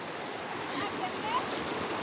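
Gurung Khola, a mountain stream, rushes in a steady broadband flow close by, with a faint chirp and brief splashy accents over the continuous water noise.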